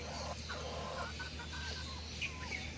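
Several chickens cluck and squawk close by in a steady murmur of short calls over a constant background hum, with no talking.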